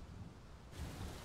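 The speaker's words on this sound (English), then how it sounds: "Back in the Empire and it's raining." Steady rain falls in the Empire in the video game Final Fantasy XVI, a soft, constant hiss that grows a little louder and fuller partway through, with a low rumble underneath.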